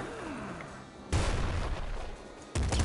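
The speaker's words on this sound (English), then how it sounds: "I got a machine gun." Machine gun fire in the video game Nuclear Throne lands as loud, harsh bursts, with one sudden onset near the middle and another near the end. Quieter game noise sits between them.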